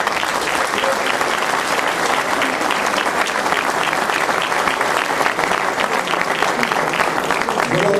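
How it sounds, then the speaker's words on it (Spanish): A crowd gives sustained, dense applause for a group. The clapping stays loud and even throughout, with some voices faintly mixed in. "merece él y todo su grupo un gran aplauso."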